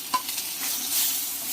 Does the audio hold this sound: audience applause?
no